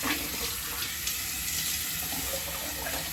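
Water streams steadily from a tap into a sink, a continuous, fairly close hiss and splash that holds at an even level throughout without pauses or speech.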